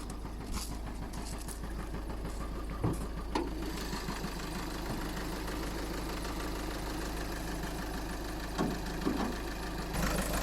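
A 1.6 litre car engine idles steadily up close under a raised hood, a continuous low rumble with a slightly uneven, knocking texture and a few faint clunks.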